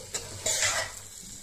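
Rice stirred lightly in hot oil in a pan for fish pulao, a brief soft sizzle with a couple of scraping strokes, no voices.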